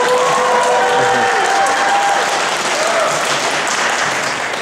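A convention audience at Power Morphicon applauds in a sustained, dense wash of clapping with some crowd noise and faint whistles, fairly loud and steady throughout, slightly fading at the end.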